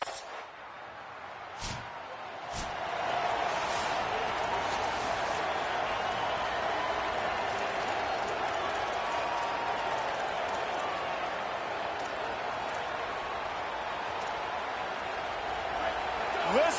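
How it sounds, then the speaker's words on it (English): A large crowd roars continuously in a big arena, a dense, sustained wall of cheering and noise that swells slightly toward the end. "Listen to this crowd just shaking the girders of this place"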